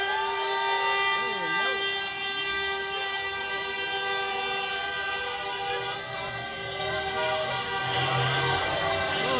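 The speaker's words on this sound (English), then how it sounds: "The horns are honking." Car horns honk over a steady rumble of rainy street traffic, with long sustained blasts layered on top of one another, loud and close, heard at a union strike picket on a wet day.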